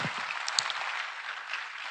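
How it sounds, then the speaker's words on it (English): Steady hiss of applause from an audience at a venture capital investment ceremony, sustained and even throughout, moderately distant with no talk over it. "Please can we give him a resounding applause again?"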